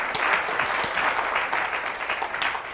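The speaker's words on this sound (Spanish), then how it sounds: "Denle un aplauso a Jesús" A church congregation claps, a short burst of lively, uneven applause with individual claps standing out, steady in level throughout.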